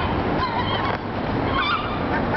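Seagulls on a parking garage rooftop, with harsh calls close by over a loud windy background and no talk.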